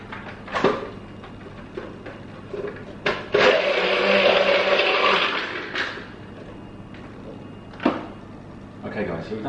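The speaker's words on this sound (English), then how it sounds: "The NutriBullet will get it all blended up." A NutriBullet blender blitzes cucumber, spinach and kale into a smoothie in a home kitchen. A loud, steady whirring grind runs for about two seconds, with clunks and clatter of handling and talking before and after.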